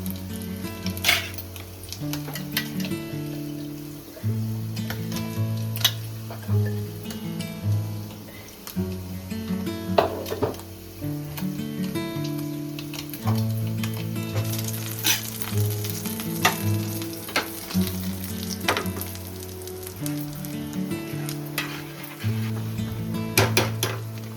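A spatula stirs palak paneer mixture frying in a pan, with steady sizzling under repeated scraping and clinking strokes, close and fairly loud, with no talk.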